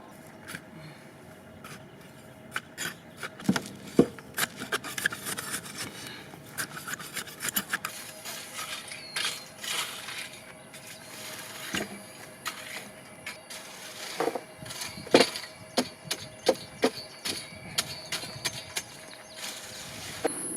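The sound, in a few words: raking and tilling soil in a garden bed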